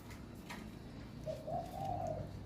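A spotted dove in a Thai bird camp gives a single soft rolling coo partway through, set against faint background murmur.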